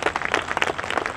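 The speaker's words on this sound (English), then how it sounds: "Can we give them a round of applause" Applause from the audience at a 9/11 remembrance ceremony in Winslow, Arizona, a short burst of many hands clapping in a quick, uneven patter, close and moderately loud.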